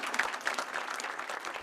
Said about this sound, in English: we're not used to applause